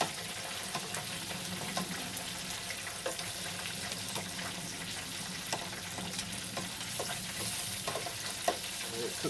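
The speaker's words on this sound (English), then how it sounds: "we're gonna go ahead and flip this fish on the side" Fish on the bone frying in hot oil, a constant crackling sizzle with scattered pops and spatters, moderately close and steady throughout.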